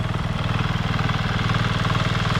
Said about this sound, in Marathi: ट्रॅक्टर आहे छोटा